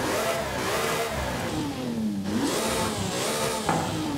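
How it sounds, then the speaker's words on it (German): A tuned car's exhaust revving in the racing game Forza Horizon 5, the engine pitch sweeping up and down through repeated throttle blips, loud and close with no talk over it. "Hört uns erstmal einen Auspuff an."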